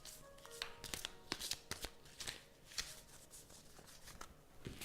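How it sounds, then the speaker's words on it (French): Tarot cards being shuffled by hand, a string of crisp riffling flicks and soft slaps arriving in irregular bursts, close and fairly quiet with no talking. "je vais les mélanger derrière la caméra parce que c'est pas du tout pratique"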